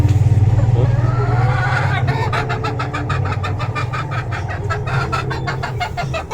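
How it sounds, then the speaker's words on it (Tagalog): Several chickens cluck in rapid, repeated bursts close by, with a steady low rumble underneath throughout. "Apat pala itong manok natin mga loks."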